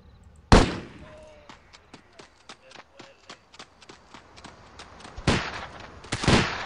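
Gunfire in the Delta Force: Land Warrior video game: a loud close shot, then a long run of evenly spaced sharp cracks, then two more heavy bursts near the end. A voice talks briefly.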